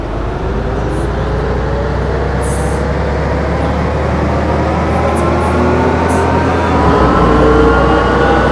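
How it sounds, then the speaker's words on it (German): A city bus engine in the OMSI bus simulator game, set in Berlin-Spandau, runs as a steady deep rumble that builds slightly in loudness over several seconds, heard alone without talk. "Schmeißen den Motor an"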